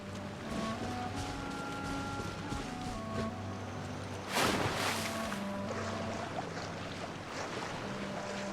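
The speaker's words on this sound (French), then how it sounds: "Donc là, on est à la source de la cascade." A waterfall at its source in the Genshin Impact video game gives a steady, moderate rush of water over droning game ambience and tones, swelling briefly midway.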